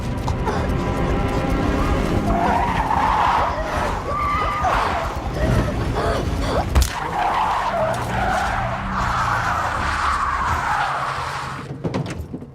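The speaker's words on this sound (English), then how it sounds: "he's going about 80 miles per hour, and he swerves to hit a deer that's in the road" A car swerves and skids at about 80 miles per hour to hit a deer on the road in a horror film scene, tires squealing loudly for several seconds, with a sharp impact-like crack midway.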